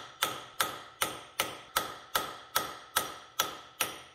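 Hammer blows on a car's dual-mass flywheel during gearbox work on a VW-group Audi A3 8L, Skoda Octavia, Seat Leon or Golf 4, ten sharp metallic strikes at a steady rhythm, each with a short ringing decay.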